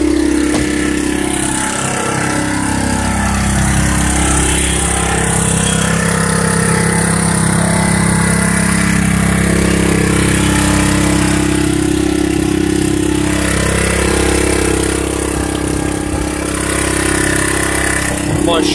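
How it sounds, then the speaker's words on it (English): A gasoline generator converted to run on propane from a gas grill tank drones steadily nearby at idle, a continuous low engine hum with a slight uneven flutter throughout. "Hooked it up to the propane tank and the gas grill, and it got running."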